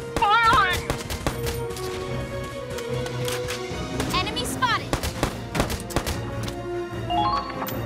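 Valkyria Chronicles 4 battle gunfire: repeated sharp shots spread through the clip alongside game effects, with short voiced cries in between.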